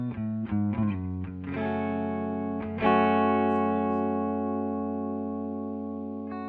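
Clean electric guitar through a Laney LC50 amp: a few quick plucked notes, then full chords left ringing and slowly fading.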